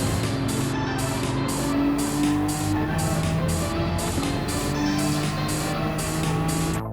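Pennzoil GT-R GT500 race car lapping Spa in Gran Turismo 7, its engine droning steadily with rising and falling pitch as it accelerates through turns, loud and continuous throughout with no talk.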